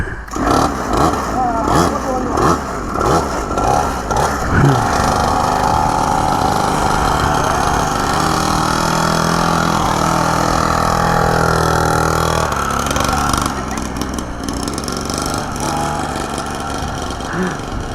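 A mini superbike engine runs loud and close, with a rough, pulsing idle that steadies into a sustained, higher-pitched rev before settling back. People talk over it.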